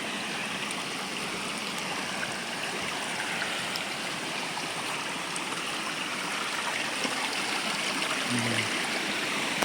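Water rushes steadily in a continuous, fairly loud flow, like a stream running close by, with no voices. The source is the Khardu Khola stream near an intake tank.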